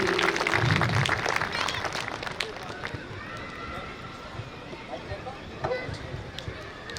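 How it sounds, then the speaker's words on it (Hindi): Audience applause at a Hindu gathering, clapping strongest at the start then thinning into scattered claps and murmuring crowd noise. "जोरदार तालियां"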